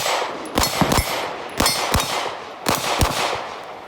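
Glock 45 pistol fired at steel targets, with a fresh firing pin fitted: sharp, loud shots come in three quick clusters of two or three, each crack followed by a bright metallic ring from the struck plates, with no talking.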